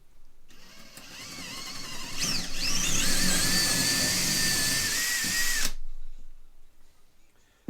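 A power drill whines loudly and steadily for several seconds while boring a 9 mm hole over a scrap piece underneath, its pitch dipping briefly as it bites, then cuts off to near silence.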